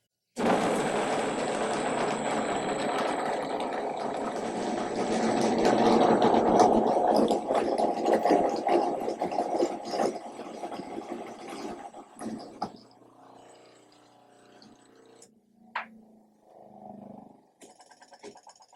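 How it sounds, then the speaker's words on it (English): A loud electric grain mill grinds grain into flour in an apartment kitchen, a harsh continuous mechanical roar for about twelve seconds that then cuts off, followed by faint clicks and small handling noises. "let's turn on the mill and see if we can blow every circuit breaker in this apartment building"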